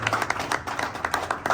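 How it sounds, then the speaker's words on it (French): An audience at a political party cadre training session claps in fairly loud, brisk applause with distinct hand claps in an uneven rhythm, close by and without talking over it. "Sous vos applaudissements, s'il vous plaît."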